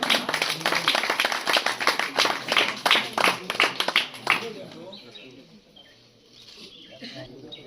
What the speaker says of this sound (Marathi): सर्वांनी टाळ्या वाजवायच्या पुन्हा एकदा.